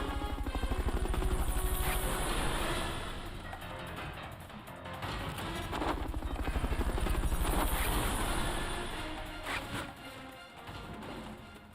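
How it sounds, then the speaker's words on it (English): Fulton recovery helicopter in Metal Gear Solid Peace Walker, a loud, steady rotor chop with pulsing swells, close and continuous, plus a few faint knocks. "recovery helicopter is complete"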